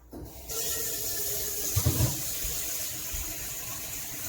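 Tap water runs steadily into a stockpot holding beef rib bones for birria consommé, a continuous gushing fill with a brief louder splash midway, close and alone without talk.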